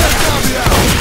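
Gunfire in the Left 4 Dead 2 video game bursts out as a loud, dense crackle of shots within a single second, heard up close.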